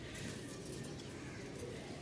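Two pairs of pigeons for sale cooing and pecking at one another right after being set down, a steady, close, low murmuring coo throughout.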